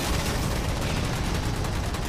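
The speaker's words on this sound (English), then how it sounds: "gunfire takes them out fairly handily" Rapid gunfire in the Halo 4 campaign, a dense, continuous burst of shots with booming low end, loud and close, with no talk over it.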